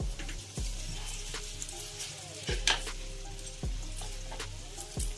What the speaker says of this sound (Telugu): మొత్తం యాడ్ చేసుకుని మనం మిక్స్ చేసుకోవాలి